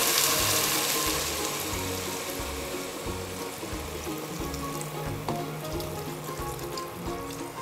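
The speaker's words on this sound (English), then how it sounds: "when you're adding water, just add enough to cover the vegetables." Water pours into a pot of vegetables for spicy pumpkin lemongrass soup, a steady splashing rush with some sizzling, close and continuous, with no talking.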